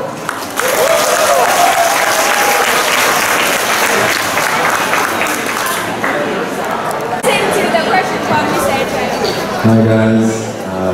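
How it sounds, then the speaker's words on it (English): Loud, sustained audience applause after a school chemistry software project presentation, dense clapping with cheers and whistles running the full length, easing near the end as voices come through. "Much applause"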